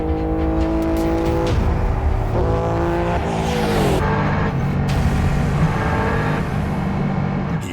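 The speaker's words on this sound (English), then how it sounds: "Hits 209 miles per hour, but the machine struggles to rev cleanly" Guy Martin's streamliner motorbike runs flat out near 209 mph, its engine screaming loud and continuous, the revs climbing, stumbling and dropping in uneven surges as it struggles to rev cleanly.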